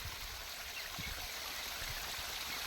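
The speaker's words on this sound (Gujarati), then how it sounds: "મારી ફુવારા પદ્ધતિ પાણી ઉપર ઉપરથી પડે પણ હવે ધોધ છૂટ્યો" Water from sprinkler irrigation gushes in a farm field during rain, giving a faint, continuous rushing and splashing that holds steady without voices.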